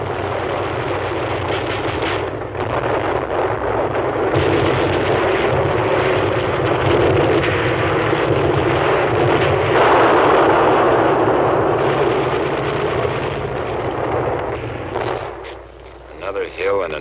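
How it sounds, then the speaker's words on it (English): Marine aircraft striking with rockets and napalm in the Korean War: a continuous, loud roar of blasts and rumbling fire that fills the scene from start to finish, easing off slightly near the end. "And Marine air with rockets and napalm to burn them out."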